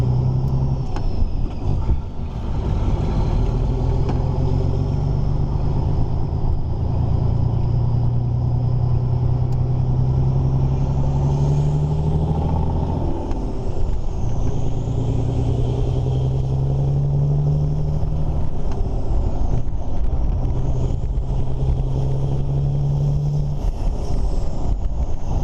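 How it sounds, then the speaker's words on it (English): Scania truck's exhaust stacks rumbling on the road while driving a vintage classic truck, a steady low drone with wind noise, rising and falling engine notes throughout, near and loud with no talk. "don't know if you're actually going to hear the stacks on Ben's Scania, or whether you're just going to hear the ones or the one on the F16"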